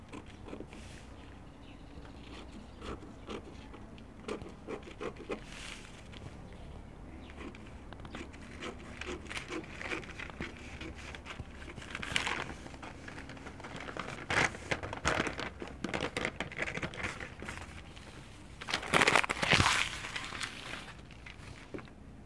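Fabric and paper pattern pieces for dropped-shoulder shirt sleeves being cut with scissors, making soft, close, rapid snips and crinkly rustling that grow a little louder toward the end.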